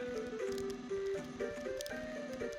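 Special jingle from the Mother 3 video game: a bright, bouncy electronic melody of short repeating notes over a steady beat, played alone at moderate volume.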